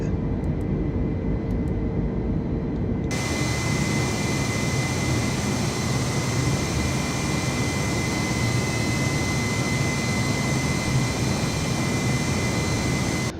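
A simulated Alaska Airlines Airbus A320 climbing out of LAX, its jet engines producing a steady, loud broadband roar that surges in abruptly after a few quieter seconds and then holds constant.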